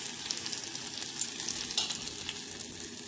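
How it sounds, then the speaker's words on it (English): Tofu fries in very hot oil with a steady, dense sizzle and crackle that runs unbroken throughout, close and fairly loud, with no voices. "Put some more tofu in here. And this is fried."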